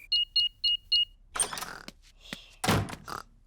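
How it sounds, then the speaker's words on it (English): Four short, evenly spaced electronic beeps from an alarm panel, then a series of clunks, clicks and rustling handling noises nearby. "I'll just switch the alarm off."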